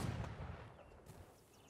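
Cannon fire in the Napoleonic-era online battle game Holdfast: Nations At War, a deep booming report with a rumbling low tail, heard alone at moderate distance.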